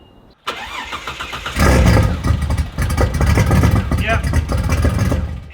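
A Ford Fairlane drag car engine fires up with the turbo wastegate open, a loud, rough, blaring roar that holds steady after a sharp start, with brief voices alongside.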